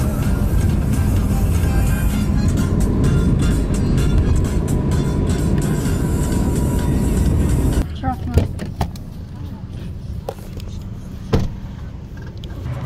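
Interior of a taxi riding through Samarkand, Uzbekistan, a loud steady road and engine rumble for several seconds that suddenly drops away as the car stops, leaving quieter thumps and clicks, with people talking.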